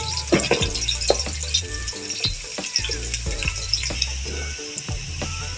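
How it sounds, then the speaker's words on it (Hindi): Onion, garlic and ginger sizzle steadily in a hot pan while being cooked for turai ki sabzi, with continuous crackling frying broken by sharp stirring clatters and scrapes, close and fairly loud, with no talking. "1 से 2 मिनट इसको भूनने का, ताकि इसकी लहसुन अदरक की खुशबू अच्छी आ जाए"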